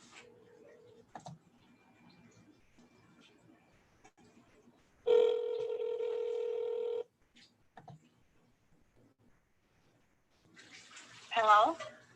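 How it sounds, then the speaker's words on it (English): A telephone connects on a call after dialing, with a sustained two-second tone in the middle, faint clicks and handling noise around it, and a short voice near the end. "Okay, I'm dialing the phone right now."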